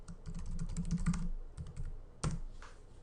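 Rapid bursts of keystrokes on a computer keyboard while entering a username and password, clustered clicks then a pause and a sharp final key tap, close and clear.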